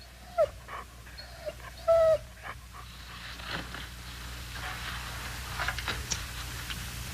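Lassie the dog makes a few short whimpers and soft panting noises close by, scattered over a quiet room with light background ticking.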